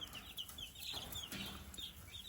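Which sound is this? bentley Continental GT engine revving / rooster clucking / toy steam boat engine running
rooster clucking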